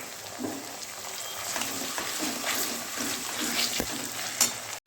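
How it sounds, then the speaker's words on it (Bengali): Chopped tomatoes and capsicum sizzle and crackle steadily in a pan with fried onions, with occasional light clicks and scrapes, moderately quiet throughout. "কেটে রাখা টমেটো আর ক্যাপসিকামগুলো ফ্রাই করে নেব"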